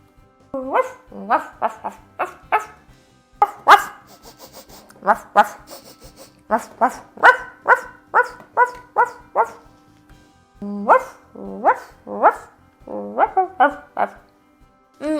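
A dog barks repeatedly in quick bursts, close and loud, with short pauses between volleys.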